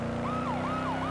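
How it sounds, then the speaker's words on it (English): A CHP police car siren in the Roblox game ERLC wails in a fast rising-and-falling yelp, loud and close over constant engine rumble. "I'm really hoping this CHP siren is able to be heard over all this."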